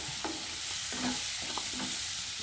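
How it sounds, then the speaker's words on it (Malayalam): Paneer fries in masala in a pan, giving a soft, steady sizzle broken by a few quick scraping stirs of a spoon, close and fairly quiet. "ഇട്ടൊന്ന് ഫ്രൈ ആക്കിയെടുക്കാം മസാലയിട്ട്."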